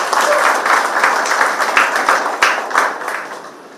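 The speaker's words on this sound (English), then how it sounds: "A big round of applause for Meena Banerjee." An audience at an arts workshop event gives a big round of applause, dense clapping that swells loudly then tapers off toward the end, with a few sharper individual claps standing out.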